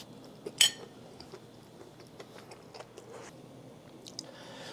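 Someone eating bacon fried rice topped with a fried egg, with garlic scapes mixed in: a sharp metal clink of a spoon on a dish near the start, then soft close chewing and faint utensil taps at a low level.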